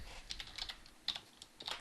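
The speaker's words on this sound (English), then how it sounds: "Here, I'll type that in here for everyone." Quick bursts of typing on a computer keyboard, a few short clusters of key clicks with brief pauses between, close and fairly quiet.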